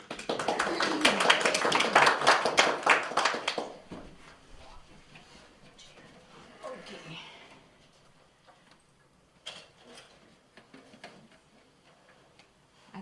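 Audience at a Unitarian Universalist church service applauding, a dense burst of clapping for about four seconds that cuts off, followed by quiet room noise and a few faint taps and shuffles.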